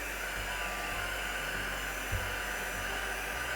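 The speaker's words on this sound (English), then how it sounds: "I'm going to get the heat gun and make sure that's nice and dry" A heat gun drying watercolour paper and softening masking tape gives off a steady, loud blowing roar with a constant airflow hiss throughout, broken by a single brief knock near the middle.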